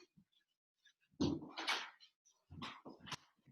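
Dog indoors giving a few short, sharp barks and yelps in quick bursts, fairly close, with brief quiet gaps between them.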